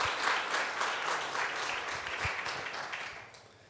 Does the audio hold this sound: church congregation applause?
yes